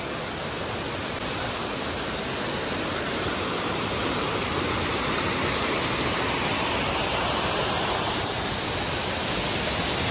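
A waterfall at Koyida near Hyderabad pours as a dense, constant roar of rushing water, loud and close, steady from start to finish with no talking.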